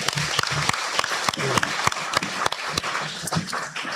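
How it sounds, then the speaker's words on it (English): Audience clapping at an electric cooperative's annual membership meeting, a loose patter of claps from a seated crowd with some voices mixed in underneath. "let's give them a round of applause"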